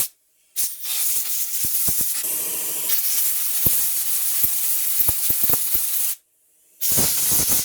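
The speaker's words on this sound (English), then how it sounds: "The compressor kicked on in the background. We're using some air." Compressed air from a large 80-gallon tank compressor blasts in a loud, steady hiss for several seconds while motorcycle carburetor parts are cleaned, cuts off, then returns in another strong burst.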